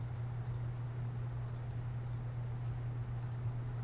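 A computer mouse is clicked repeatedly while the Command key is held down during Illustrator gradient mesh work. Several faint, sharp clicks come singly and in quick pairs over a low, steady hum.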